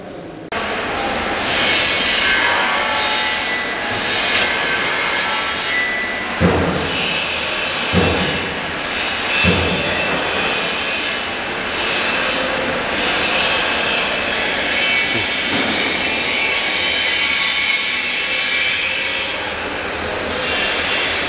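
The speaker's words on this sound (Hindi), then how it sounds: "और दोस्तों, ये है हमारा फाइन ग्राइंडर" A fine grinder runs in a floating fish feed plant, producing a loud, continuous broadband roar with a high whine on top and a few dull knocks, heard close with no voices.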